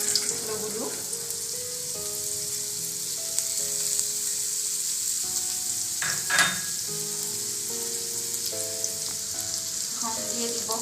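Potatoes fry in hot oil with panch phoron spices in a pan, a steady close sizzle with occasional stirring, under soft tonal background music.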